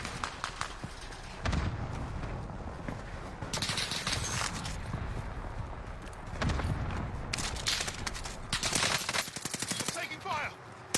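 Gunfire in Call of Duty: Warzone, with repeated bursts of rapid automatic shots in several loud clusters over constant game noise.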